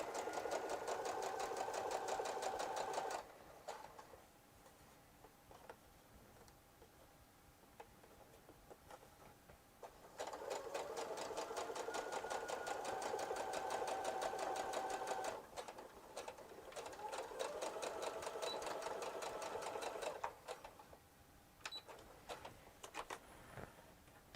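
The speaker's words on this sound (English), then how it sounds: "go ahead and sew down to the other end" A sewing machine stitches the seam of a zipper pouch in steady rapid bursts of mechanical whirring, running for several seconds at a time and pausing between passes, close and clear with no talking.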